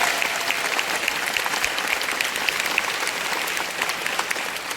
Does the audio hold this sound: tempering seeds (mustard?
no